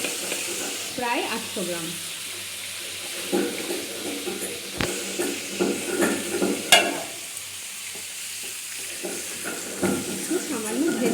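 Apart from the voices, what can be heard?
meat frying in oil in a pan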